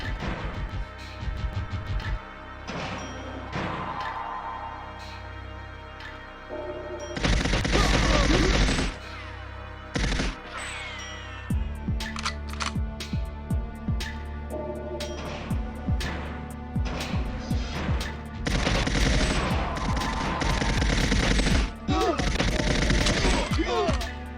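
Rapid bursts of gunfire from GoldenEye 007 on the Xbox Live Arcade remaster, loud crackling volleys and sustained automatic fire alongside game sounds, with several quieter gaps between barrages.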